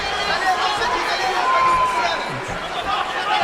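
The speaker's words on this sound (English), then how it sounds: "it's hard to hear when you've got a mob cheering" A crowd of Brazilian fans cheers at a fight, a continuous roar of voices and shouts filling the arena at a steady, loud level.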